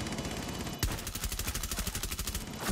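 Rapid automatic gunfire in Rainbow Six Siege, a fast even stream of loud shots through the whole stretch, with a heavier blast near the start and no talking.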